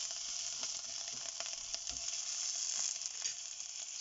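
Chopped tomato hisses in a pan of frying onions with a soft, even sizzle. A few faint clicks of a spoon sound close by against the quiet, steady crackle.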